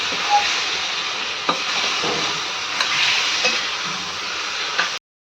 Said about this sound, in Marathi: लगेच त्याच्यामध्ये आंबे घालायचे, परतून घ्यायचे।